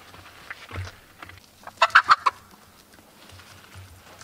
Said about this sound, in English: Get out of here, chicken.